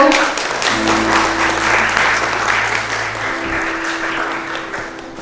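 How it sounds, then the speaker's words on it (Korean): A hall audience at the Kia K8 launch presentation gives a full, sustained round of applause, dense and loud throughout, with a low steady hum from the venue's sound system beneath it. "박수로 환영해 주십시오"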